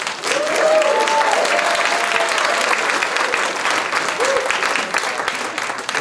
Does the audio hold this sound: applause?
yes